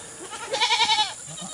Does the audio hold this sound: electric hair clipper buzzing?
no